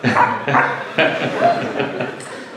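A voices an imitation of a dog's barking, giving a series of short yapping bow-wow sounds in quick bursts, close and loud, spoken-voice in character rather than a real animal.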